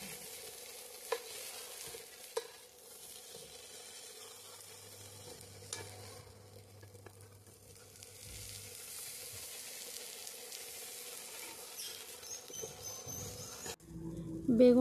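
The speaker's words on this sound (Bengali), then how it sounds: "আমি ঢাকা দিয়ে দিয়ে বেগুনগুলো ভেজে নেব।" Brinjal slices from a home garden frying in a pan, a steady low sizzle running throughout at moderate level, with a few sharp utensil clicks and a louder clatter near the end.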